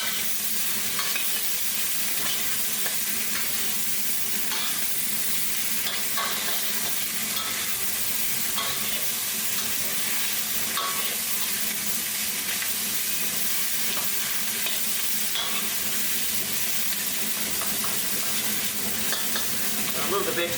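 Garlic, ginger, red chilli and vegetables stir-fry in a wok on a home-made high-output burner, giving a dense, continuous roaring sizzle with scattered clicks of tossing and scraping.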